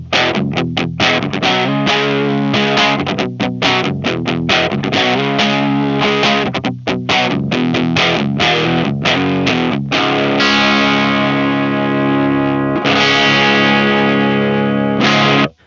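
An electric guitar played through a Swamp Witch Silver Birch overdrive pedal with a mid-forward tone: loud, close, distorted chords and riffs with choppy strummed stops, then longer sustained ringing chords, no talking.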